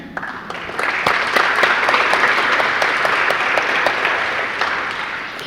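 Applause from an audience at a high school graduation ceremony, scattered sharp claps building into a steady, fairly close round before easing off.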